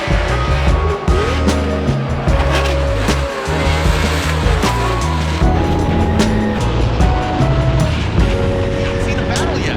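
Drift car at a Formula Drift event in Seattle, its engine roaring and tires squealing loudly and continuously, with crowd and track noise filling the background.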